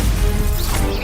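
A Stupefy spell is cast during a duel in a Hogwarts video game, a loud, short burst of crashing magical impact lasting about a second.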